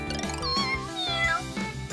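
Several kittens meow repeatedly in high, overlapping cries, close and fairly clear over a steady background of music.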